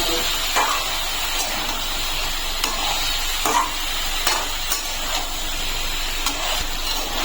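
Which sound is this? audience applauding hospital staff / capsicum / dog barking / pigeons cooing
capsicum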